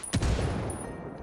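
Gunfire in a video game, a quick burst of sharp shots at the start that fades into a decaying rumble, loud and close, without voices.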